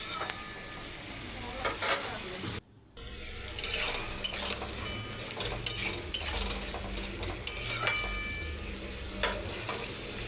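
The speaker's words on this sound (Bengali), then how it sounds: "আবার 5 মিনিট পর এসেছি, আবার একটু নাড়িয়ে চাড়িয়ে নেব।" Pumpkin greens are stirred in a cooking pot, with soft scraping and clinks of a spoon against the pot over a low simmering sizzle, close and fairly quiet with no talk.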